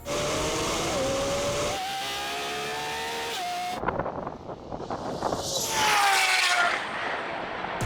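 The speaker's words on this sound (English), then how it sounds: "when I raced those two Lambos over a standing quarter mile, here's what happened" Two Lamborghinis, a Revuelto and a Temerario, drag race over a standing quarter mile, with engines revving hard and shifting through gears, then a loud rush of acceleration passing close before fading.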